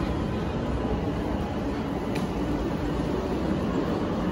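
Riding inside a fast Chinese bullet train, a steady, loud broadband rumble and roar of high-speed rail travel fills the space continuously, with no pauses and no talk.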